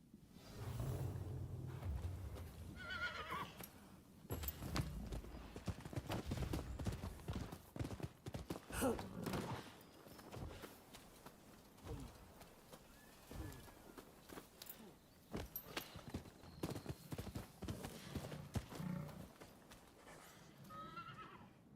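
Horse hooves clip-clopping at a walking pace in the video game Rise of the Ronin, with occasional whinnies and snorts, close up, with some faint voice in the background.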